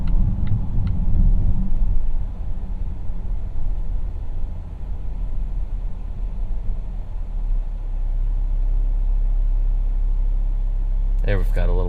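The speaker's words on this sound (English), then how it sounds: "There we've got a little bit of telltale 4-cylinder thrumming that is going on at idle there." A 2018 Volvo XC90 T6 AWD Inscription's four-cylinder engine idles with a low, steady thrumming rumble inside the cabin, while someone talks over it.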